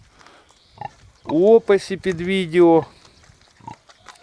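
Young Ukrainian Mangalica piglets grunt and squeal in a short, loud burst of nasal, voiced calls near the middle, framed by quieter moments, while a person speaks briefly.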